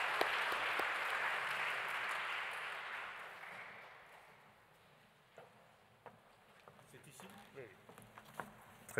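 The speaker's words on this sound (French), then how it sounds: "on vous applaudit" A crowd applauds loudly at first, the clapping fading over several seconds into a quieter room with scattered small sounds.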